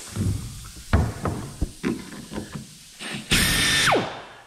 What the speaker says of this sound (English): when one looks flat, drill a hole, rivet that one